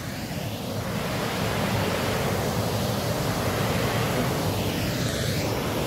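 Water outdoors making a steady, broad rushing wash like surf or flowing water, continuous and fairly loud for the whole stretch, with no speech.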